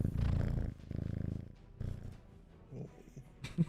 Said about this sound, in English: You hear the purring.